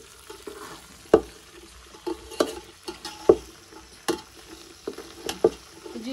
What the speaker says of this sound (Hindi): भिंडी ऐड कर दी है, अब जो है इसको मिक्स करेंगे अच्छे तरीके से।